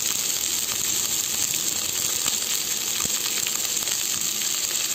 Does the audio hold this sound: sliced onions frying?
yes